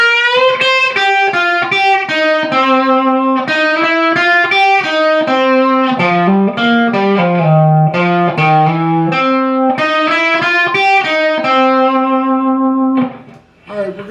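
Distorted electric guitar playing the opening measure of a solo, a loud, fast run of bent and picked notes with steady phrasing, ending in a brief trailing note.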